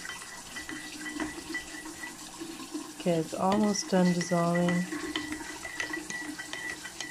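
Water running from a kitchen tap makes a steady hiss beneath a person speaking, with a brief clink of a spoon stirring honey into coffee in a mug.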